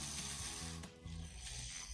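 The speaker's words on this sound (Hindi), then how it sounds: "तो मुझे लगता है हम बैटमैन बबल मोबाइल को ही चला रहे हैं।" A motor drives the gears of a Lego Batman bubble mobile, giving a steady mechanical whirring with fast ratchet-like clicking that runs on without a break. No one speaks over it.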